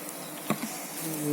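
Honeybees buzz around an open hive during an inspection at an apiary, a soft, steady drone with a brief louder pass near the middle, faint and close.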